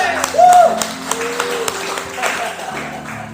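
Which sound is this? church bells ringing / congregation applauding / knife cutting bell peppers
congregation applauding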